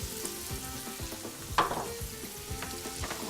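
Mushrooms sizzle on high heat while onions fry on medium-high in separate pans for beef goulash: a steady, close crackle broken by regular scraping knocks from stirring, with no talking.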